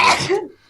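A single short, explosive sneeze comes close to the microphone during an online group call. It is loud and abrupt and fades quickly.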